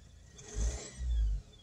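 A car engine that is still cold revs twice in two steady swells and drops back to a low rumble between them, heard close with an OBD2 diagnostic reader plugged in.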